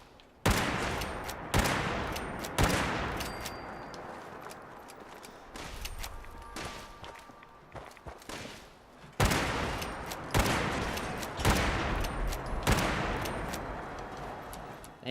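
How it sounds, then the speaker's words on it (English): Explosive turret firing in the video game Fallout 76: loud bursts of booming gunfire and blasts repeat in clusters across the whole stretch, close and dense, with no talk. "Explosive turret."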